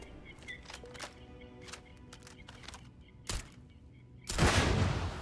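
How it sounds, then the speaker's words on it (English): Gunfire from a ranged weapon shooting out mines in the video game Starfield: a scattered run of sharp, moderate shots, then a loud, broad blast near the end. "Can you shoot the mines out?"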